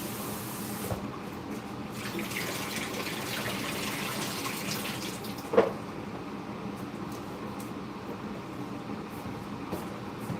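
A kitchen tap runs steadily while food is rinsed for a creamy spaghetti dish, a continuous close gushing hiss of water with one brief clunk partway through and no talking.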